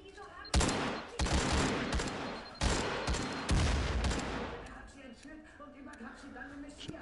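Bursts of gunfire from the VR shooter Firewall: Zero Hour crack out in several loud volleys over the first four seconds, then fade to quieter scattered shots while players talk.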